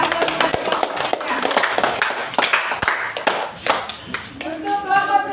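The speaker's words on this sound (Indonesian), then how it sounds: "beri aplaus kepada kelompoknya" A classroom group finishes its presentation and gets applause, a spread of hand claps lasting several seconds, moderately close, with voices in the room.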